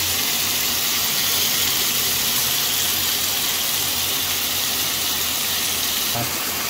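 Chicken sautéing in a pan with garlic, onion and ginger for a chicken and vegetable stew gives off a steady, loud, dense sizzle that holds without a break, with no talk.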